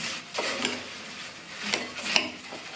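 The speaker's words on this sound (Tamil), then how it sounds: "மறுபடியும் நல்லா ஒன்றா மிக்ஸ் பண்ணி விட்டுடலாம்." Spiced flattened-rice poha mixture for a crunchy aval snack stirred in a pan, a few scraping clinks and rustles of the spoon against the vessel, close and fairly soft with quiet gaps between strokes.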